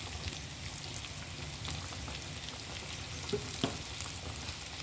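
Ground beef frying slowly in a pan with paprika and cinnamon, a steady soft sizzle with faint crackles and a couple of brief scraping stirs near the end, no talking.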